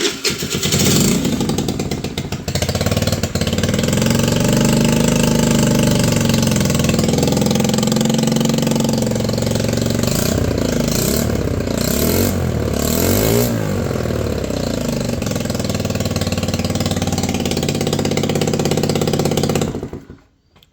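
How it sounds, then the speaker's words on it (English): An Icebear 50cc moped engine starts and runs close up, a loud steady buzzing idle with some revving in the middle, cutting off at the very end. "So I'm gonna fire it up for you guys here."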